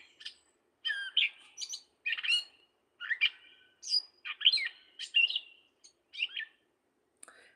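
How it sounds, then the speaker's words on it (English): A mockingbird or thrasher sings an intricate run of varied chirps, trills and whistled notes, phrase after phrase in quick succession with brief gaps, heard alone in a quiet outdoor setting. "Mockingbird or thrasher?"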